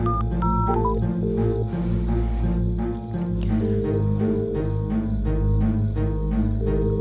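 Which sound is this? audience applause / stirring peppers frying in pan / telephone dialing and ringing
telephone dialing and ringing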